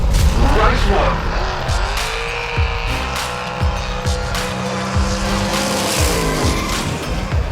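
Hot Wheels diecast cars racing down a track, Mod Rod among them, with repeated clattering rolls and sharp hits, close and busy, under a race-caller-style voice.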